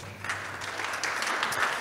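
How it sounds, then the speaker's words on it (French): Brief applause at a talk on maintenance in the circular economy, a moderate crowd clapping at middling loudness, a little uneven, with no voices. "On peut l'applaudir"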